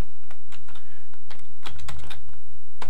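Rapid, irregular clacking of keys on a Color Computer keyboard, loud and close, with uneven bursts of keystrokes over a steady low hum.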